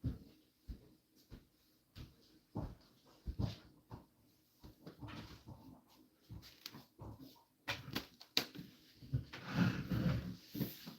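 A dog sniffing and whimpering at something set down indoors, with soft snuffling bursts and brief whines scattered through the clip, alongside light handling clatter like a drawer or cupboard nearby.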